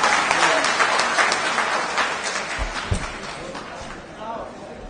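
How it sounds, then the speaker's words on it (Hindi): A crowd at a JDU party office event in Patna, held by the technical and labour cell, claps loudly at first, and the applause gradually fades. Voices are heard alongside it. "मेरे लिए जोरदार ताली बजा दीजिए"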